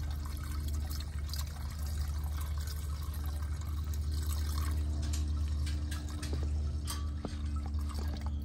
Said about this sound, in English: Okay, so we're gonna pour in the cleaner.